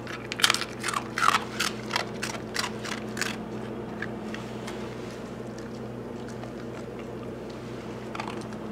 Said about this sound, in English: Crunchy salmon puff.